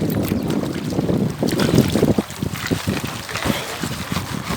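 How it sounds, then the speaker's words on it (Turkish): Sea waves washing onto a Turkish beach where someone pans the shallows for gold and old coins, a steady rushing surge with wind buffeting the microphone close up, no talking. "dalgalar."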